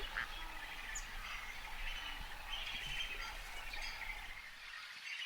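Waterbirds call around lakes in Akagera, Rwanda, with faint duck-like quacks and scattered chirps set in a steady outdoor hiss; distant and soft, with no voices.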